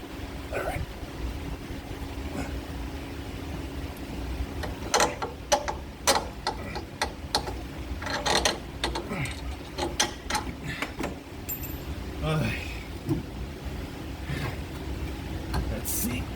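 A ratchet working a suspension bolt loose on an Audi B6 A4 gives bursts of quick clicking amid clanks and mechanical rattles, close by, with a person talking at points.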